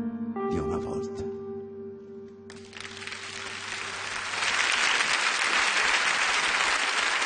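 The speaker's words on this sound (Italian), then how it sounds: "Applausi." A song fades out on held piano and string tones, then a concert audience breaks into applause that swells and continues loudly to the end.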